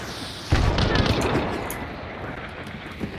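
A hive bomb blasts in a shooter game, a sudden loud boom that cuts in abruptly and then rumbles and decays across the next few seconds amid scattered game noise.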